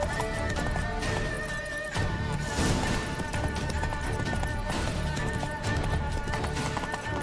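A horse galloping in The Witcher 3 Blood and Wine, steady close hoofbeats clip-clopping at a fast pace with a whinny, loud and continuous over game music and ambience, a voice speaking briefly.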